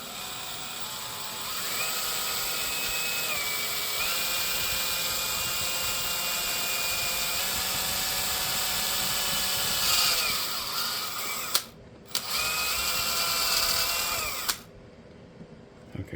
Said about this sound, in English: I'm going to try to drill a little hole through the side and then just clear a little path for the cable to go in